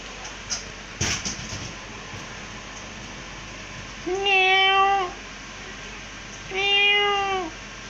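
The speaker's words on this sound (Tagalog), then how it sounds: "Ayan, ang dami nilang mga pusa." Two drawn-out cat meows, spaced a few seconds apart, over a quiet background with a couple of faint knocks beforehand.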